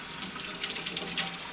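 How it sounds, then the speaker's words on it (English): Water runs steadily from a tap into a sink, a continuous close-up hiss of flowing water with no voices. "Water runs."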